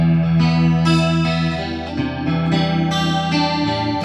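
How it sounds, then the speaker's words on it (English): Electric guitar chords through a flanger pedal set for a shimmering, swirling chorus-like modulation, strummed steadily and up close with no talking. "It really does get that kind of chorusy sound, doesn't it?"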